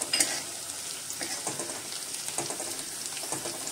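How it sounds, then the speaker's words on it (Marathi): Green chillies and curry leaves frying in hot oil, a bright close crackling sizzle with a sharp spatter at the start and steady popping throughout, no talk. "कढीपत्ता भाजून घेऊया आपण तेलामध्ये चांगला"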